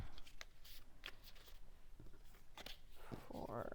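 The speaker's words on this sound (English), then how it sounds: "I'm going to put them back in my deck, and we're going to shuffle some more" A deck of tarot-style reading cards being shuffled by hand: several quick crisp riffling bursts and soft slides, close and fairly quiet, with pauses between them.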